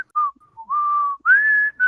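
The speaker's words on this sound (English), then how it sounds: "we even talked earlier about whistling. Mics hate it." A person whistles loudly and close into a microphone, holding a few sustained pitched notes with short gaps and a higher final note.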